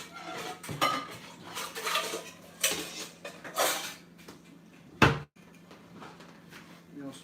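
Metal pans clink and clatter as they are handled for water bath canning, scattered knocks and rattles with one sharp bang near the end, under intermittent talking.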